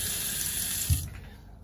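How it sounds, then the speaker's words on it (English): Tap water pours steadily into a stainless steel utensil sink inside a coffee van, a close rushing hiss that cuts off about a second in. "To the left of the coffee machine, you've got your utensil sink, which is hot and cold water."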